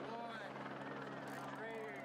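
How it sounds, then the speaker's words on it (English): A big helicopter flying overhead at a mountain bike event, its steady rotor drone and whine filling the whole stretch, loud and continuous with no gaps. "to note is the chopper in the background"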